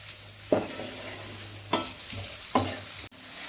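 Green chillies and spices with turmeric sautéing in a pan for a fish fry masala: a steady low sizzle broken by three distinct spatula scrapes and stirs, close and moderately loud, with no talking.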